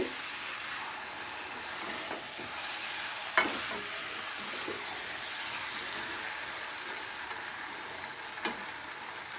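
Pointed gourd and prawn masala being stir-fried in a pan, a soft continuous sizzle with occasional faint stirring scrapes and taps.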